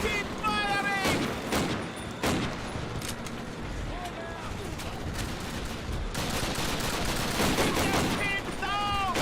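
Gunfire in a video game, repeated loud volleys and bursts spread across the clip with a few sharp cracks standing out, heard over game sounds and a person talking.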